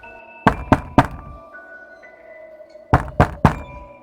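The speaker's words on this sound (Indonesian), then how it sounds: "Fix, ketokan itu berasal dari lemari." Knocking from a wardrobe in a boarding-house room in Malang: two close, sharp groups of three hollow knocks separated by a quiet pause with faint background hum.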